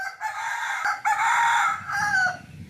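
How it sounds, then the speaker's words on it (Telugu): A rooster crows in a long, strained call on an organic farm garden, moderately distant, with a few clucks from fowl around it and steady outdoor background noise. "ఆ కోడికి ఇప్పుడే తెల్లారినట్టున్నది"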